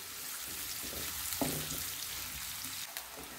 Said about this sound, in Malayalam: അതിലേക്ക് ഒരു വലിയ സവാള ചെറുതായിട്ട് അരിഞ്ഞതങ്ങ് ഇട്ടു, അതിനെ ഒന്ന് വഴറ്റിയെടുക്കണം.